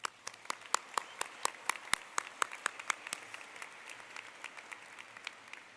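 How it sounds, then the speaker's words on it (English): Scattered hand claps ring out from a high school graduation audience for the superintendent, sharp, distinct and fairly sparse, each clap separate in a roomy space, without voices. "Please join me in a round of applause for Dr."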